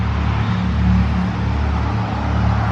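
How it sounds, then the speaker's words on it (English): Cars pass by on the Great River Road near Elsah, a constant low traffic rumble with a faint swell of a passing vehicle, heard from the sidewalk of an old town with no voices. "A lot of traffic going by"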